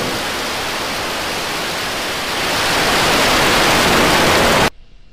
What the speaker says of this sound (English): 3, 2, 1, ignition. We have liftoff.